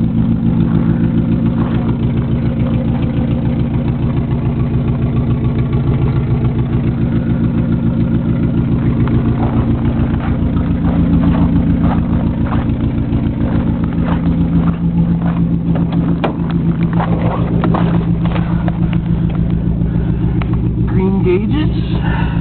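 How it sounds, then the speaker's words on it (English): A 1987 Nissan Sentra with a 1.6L engine idles slowly just after a cold start, a steady low rumble with exhaust burble carrying throughout at close range. "Get a little exhaust sound, guys. Really slow idle."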